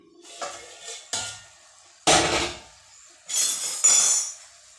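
Metal spoon scraping and clinking against a pot of rice with peas, in several separate strokes over a few seconds, close and fairly loud.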